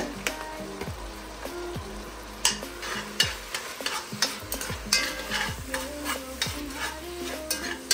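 Ground meat seasoned with salt, pepper and garlic browns for chili in a hot pan. A steady sizzle runs under frequent close scraping and stirring strokes.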